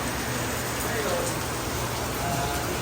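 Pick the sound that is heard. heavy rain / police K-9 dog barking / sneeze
heavy rain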